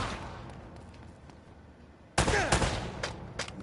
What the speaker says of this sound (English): You always seem to be getting shot at.